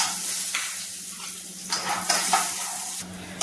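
Peanuts roasting in a pan for a flattened-rice snack, with a soft continuous sizzle, scraping stirs and light rattling of the nuts against the metal, close up.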